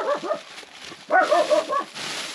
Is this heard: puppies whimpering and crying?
yes